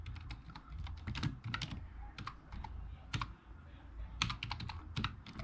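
Rapid typing on a computer keyboard, a quick irregular patter of close key clicks over a low background hum, with no talking.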